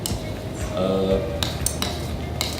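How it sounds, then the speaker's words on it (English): Greek yogurt sauce being mixed in a bowl, with a spoon clinking and scraping against the sides in quick, close, uneven strokes and a brief ringing tap, and no talking. "now we're mixing the Greek sauce"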